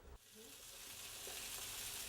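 Scrambled eggs mixed with milk fry in a pan on a stove, a soft, steady sizzle that builds slightly after they go in, low and close with no talking.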